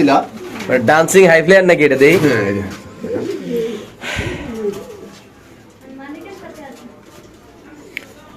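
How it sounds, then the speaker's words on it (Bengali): Fancy pigeons cooing at a pigeon sale, soft throaty coos up close mixed with men chatting nearby, the voices fading and leaving quieter cooing toward the end. "দর্শক আমরা একটু সামনে কবুতরটা দেখাচ্ছি"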